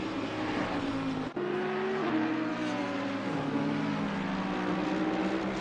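A BMW and a McLaren race at Kyalami in a console racing game, with loud, continuous engine drones rising and shifting in pitch and a brief dropout early on.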